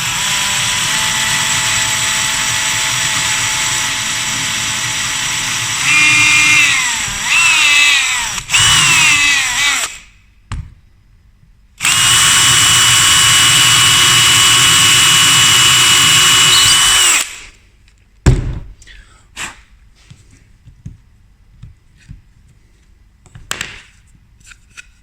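A power drill whirs loudly in several bursts while drilling clearance holes into scrap wood, with pauses between, then quieter clicks and handling noises toward the end.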